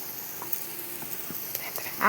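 Chopped young jackfruit sizzles faintly in a hot pan for a Kerala-style thoran, a soft continuous hiss with small crackles and a few scraping stirs near the end.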